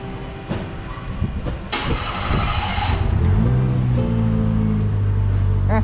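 A pickup truck engine cranks and catches around the middle, then settles into a steady low rumble, with clunks and mechanical rattling earlier on.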